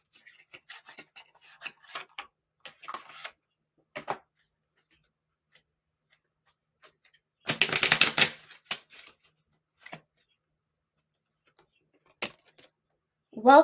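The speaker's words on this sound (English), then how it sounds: "I will be pulling cards from the Spirits Junkie Tarot's deck by Gabrielle Bernstein" A deck of Spirit Junkie tarot cards is handled and shuffled at close range, with scattered soft rubbing and flicking and a denser riffle burst midway, amid quiet pauses.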